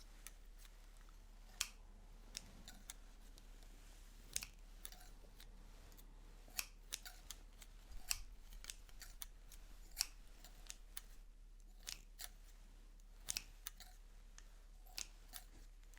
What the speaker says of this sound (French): je joue avec des ciseaux